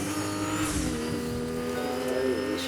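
Car engine driving steadily in the Fortnite video game, a continuous mid-loud motor drone with shifting pitch and no boost, alone without talk.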